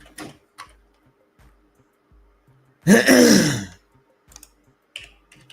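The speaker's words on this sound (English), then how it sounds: "you guys are going to hear me clear my throat a lot because I'm eating" A man eating at his desk clears his throat once, loud and close, in a gravelly rasp, with faint scattered keyboard-like clicks before and after.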